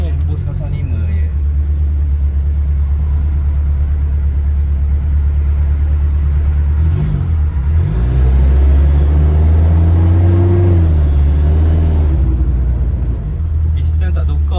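A Perodua Kembara with a 123 hp turbo engine and unchanged pistons accelerates on the road, a loud, droning cabin rumble that rises in pitch and swells midway while someone talks over it.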